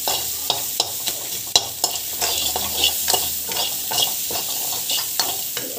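Coconut chutney ingredients with salt sautéing in a pan, a loud, close, continuous sizzle punctuated by regular scraping strokes and a few sharp knocks of the spoon.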